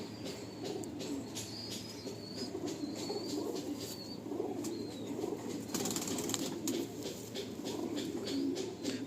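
Pigeons coo softly inside a pigeon loft, with repeated low cooing and scattered chirps over a continuous hum of background noise, and a brief flutter of movement midway.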